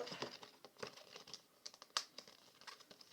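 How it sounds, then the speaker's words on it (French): Banknotes slide into a paper envelope with close, quiet crinkling and rustling, a flurry of small paper crackles and one sharper crumple. "Je vais mettre tout ça dans mon enveloppe"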